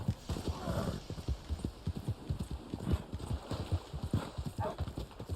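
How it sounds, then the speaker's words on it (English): Horse hooves in the Red Dead Online video game clip-clop in a fast, steady galloping rhythm, close and prominent throughout, with a faint whinny-like sound now and then. "Move, horse, move."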